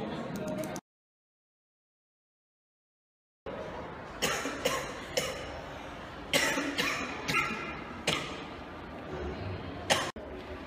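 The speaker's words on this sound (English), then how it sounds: "Your cough's getting worse." Several short, sharp coughs from a worsening cough come in bursts, fairly close, after a brief stretch of silence near the start.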